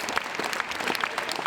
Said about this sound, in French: De longs applaudissements.